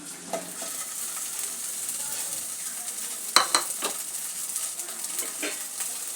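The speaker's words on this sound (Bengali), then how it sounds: "আদা কাঁচা লঙ্কাটা ভাজা হয়ে গেলে সেদ্ধ আলুটা দিয়ে দেব" Boiled potato fries in oil with ginger and green chillies, giving a faint, continuous hiss and sizzle with a few scattered clinks of a utensil on the pan.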